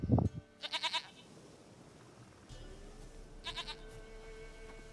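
A goat bleating in The Witcher 3 video game: a short low grunt, then a loud wavering bleat, quiet ambience, and a second fainter bleat near the end, with no talk.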